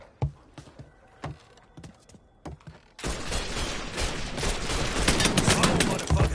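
Rapid gunfire from the Mafia 3 video game, opening with a few sharp isolated shots and then becoming a dense, continuous barrage of overlapping loud bursts.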